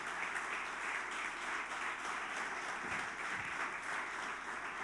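A church congregation applauds during a Sunday morning worship service, steady dense clapping filling the whole stretch at an even level with no voices over it.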